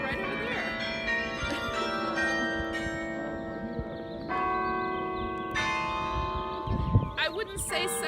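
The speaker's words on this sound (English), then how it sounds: "I just like the way the bells sound." Church bells ring out in a melodic peal, several tuned bells striking in sequence with long ringing tones that overlap and sustain, a brief thump and faint background voices heard among them.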